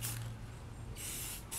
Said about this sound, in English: If you want it to really show, you spray it more.